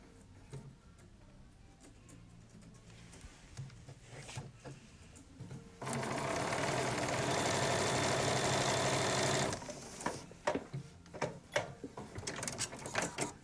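A sewing machine stitches a quilt seam in a steady, fast run of about four seconds, with scattered clicks and handling noises before and after.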